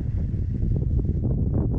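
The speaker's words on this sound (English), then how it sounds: "it's quite windy" Wind blowing steadily at the fishing spot at Albert Falls, a low rumbling buffet across the microphone with gusty surges, no voices.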